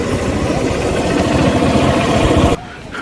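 A motorcycle engine idles loud and close with a rough, steady rumble, then cuts off abruptly near the end, leaving quieter background.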